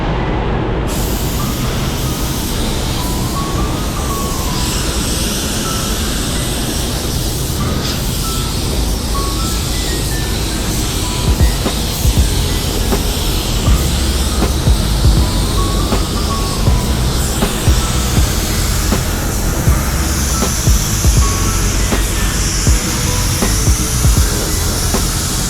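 Spray gun laying clear coat onto a car, a loud, continuous rushing hiss of air and atomized paint that runs unbroken, close up.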